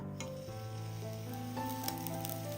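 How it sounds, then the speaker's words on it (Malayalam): Ghee sizzles steadily in a hot kadai, a close, continuous crackling hiss with no talk over it. "ചൂടായി കിടക്കുന്ന ഒരു കടായിലേക്ക് ഒരു ടേബിൾ സ്പൂൺ നെയ്യ് ഒഴിച്ചു കൊടുക്കുക"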